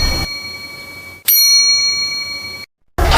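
A bright notification bell sound effect rings once, two clear struck tones ringing out and then cut off abruptly into silence.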